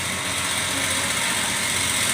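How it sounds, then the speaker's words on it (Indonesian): Heavy equipment tractor engine running as the machine loads onto a transport truck: a steady, close, broadband engine drone with a hissy, even texture that holds constant for the whole short stretch. "traktor ya, naik ke mobil."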